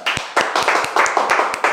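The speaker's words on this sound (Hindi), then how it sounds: "ताली बजा रहे सब?" Students in a classroom clap their hands together in a quick, uneven burst, many sharp smacks overlapping in a fast rhythm, loud and close for under two seconds.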